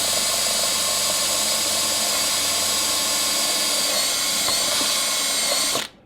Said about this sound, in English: then drill the hole through with this up to that point